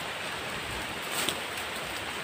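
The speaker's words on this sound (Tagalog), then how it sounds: "Lakas ng ulan guys." Heavy rain pours down outdoors, a steady hissing downpour close around, fairly faint in level but unbroken, with a brief louder spatter midway.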